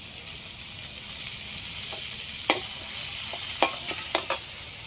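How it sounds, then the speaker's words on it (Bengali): Garlic and chopped curry leaves fry in hot oil with a constant hissing sizzle, broken by a few sharp clicks and scrapes of a utensil toward the end, and no voices. "রসুনটা একটু হালকা করে ভেজে নিয়েছি, এর মধ্যে আবার কিছুটা কারি পাতা কুচি দিয়ে দেবো।"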